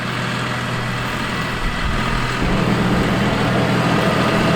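Tractor engine droning steadily at close range while driving across a field, with a low heavy rumble that grows slightly louder partway through.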